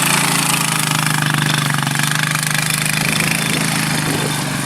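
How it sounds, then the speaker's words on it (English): A 2007 Honda Rancher 400 ATV pulls a Groundhog Max tiller through a food plot, giving a loud, steady, close engine drone mixed with churning soil clatter, with no talking. "I'm using a 2007 Honda Rancher 400 with the Groundhog Max."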